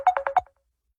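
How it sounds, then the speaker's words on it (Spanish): A phone ringtone sounds for an incoming call: four quick bright melodic chirps in a fast pattern, close and clear, then it cuts off into silence. "Es que me están llamando por teléfono"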